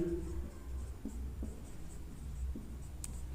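Quiet tapping and scratching of writing on a board during a physics lesson on units and measurement, a few soft strokes spread over a steady low room hum, with no voice.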